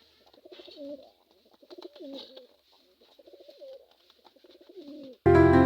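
A black male pigeon and a white female pigeon shut in a cage coo in repeated low, rolling calls, close and clear, before a sudden loud noise cuts in at the very end.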